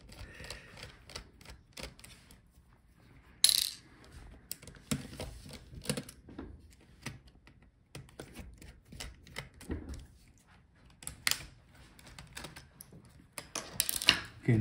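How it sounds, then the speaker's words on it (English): Screws being taken out of the hinge of a Dell Inspiron 15 3525 laptop, a faint series of small clicks and taps scattered irregularly, close and quiet with no talking. "I'm gonna take out the screws for the other hinge because it covers our I/O board"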